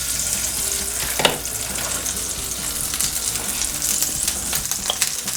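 Butter and avocado oil sizzle steadily in a hot pan for seafood étouffée, a constant loud crackle with a few sharper pops and spits near the middle and end.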